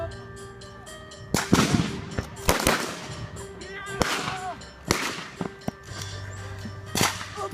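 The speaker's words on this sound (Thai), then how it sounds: "เราจะทำการ ยิงนะครับ คุ้มกันให้ก่อนนะครับ" Rifle shots fired during a new-recruit military patrol drill, a handful of sharp loud cracks spaced irregularly over several seconds against faint background noise.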